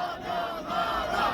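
A rally crowd at a citizens' gathering outside a provincial government building shouts a chant together in response to a leader, a dense, sustained roar of many voices with no clear single speaker.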